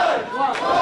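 A wrestling crowd roars and cheers in one brief, loud, sustained burst of voices, a wall of yelling filling the arena.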